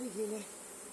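Honeybees swarming around a beehive during a robbing attack on a drone-laying nucleus colony, a thin steady buzz close by that fades slightly after the first half second.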